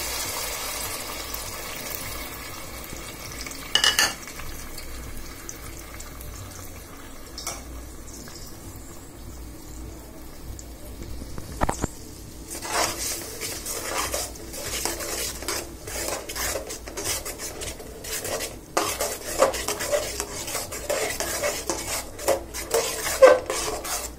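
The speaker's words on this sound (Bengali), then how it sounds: "এখন মিক্স করা মশলাগুলো দিয়ে দিচ্ছি।" Ground spices soaked in water are stirred into a karahi on the stove for potato curry, a spoon scraping and clinking against the pan in irregular bursts amid soft sizzling, growing busier toward the end.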